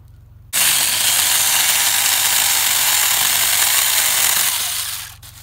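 A small Saker mini chainsaw cutting through a branch about two inches thick with a brand-new chain, a loud steady buzzing whine that starts abruptly, holds for several seconds, then winds down.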